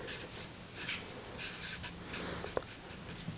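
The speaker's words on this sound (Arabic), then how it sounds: "تعالى نرسم عليها بقى بالقلم الاسود" Black pen scratching over paper while sketching the outline of a football, a close, dry scraping in short irregular strokes with small pauses between them, no voices present.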